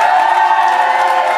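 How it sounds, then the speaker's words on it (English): A gig crowd at a tenth-birthday show at the Brudenell cheers and applauses for their sound engineer, a loud, steady wash of cheering and clapping that continues without a break. "Can we just give a big round of applause to this man here?"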